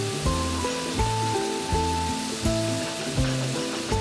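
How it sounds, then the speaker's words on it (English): Sliced tomatoes and softened onions sizzle steadily in a pan for a mushroom butter masala, a continuous frying hiss running beneath louder background music. "Then add 3 tomatoes sliced and fry this until the tomatoes are nice and soft."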